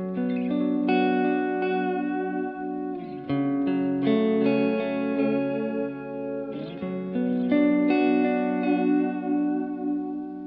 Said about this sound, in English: here's the first tape delay